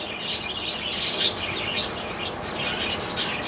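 Blue-naped parrots in an aviary give bright, scattered chirps and short tweets. The calls are moderately close over a soft, steady background hiss, with no talking.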